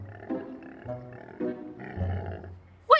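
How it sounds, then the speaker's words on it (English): A sick Stegosaurus dinosaur groans in low, grunting, pig-like bursts, repeated several times at close range and fairly faint. A brief sharp squeak cuts in at the very end. "The sound of a sick Stegosaurus, to be exact"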